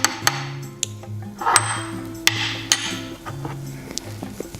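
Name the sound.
stirring homemade nut milk with salt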